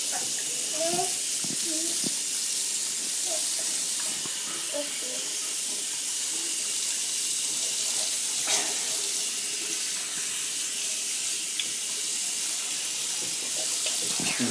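Tap water runs steadily as a child rinses his mouth after brushing his teeth, a constant close hiss with faint voices talking quietly over it.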